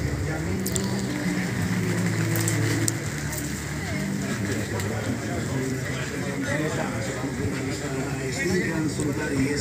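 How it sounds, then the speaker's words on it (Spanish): Steady rain falls and patters on surfaces at an outdoor motorcycle show in Barcelona, a continuous wash of drops with crowd voices and speech mixed underneath throughout. "La lluvia desluce un poco"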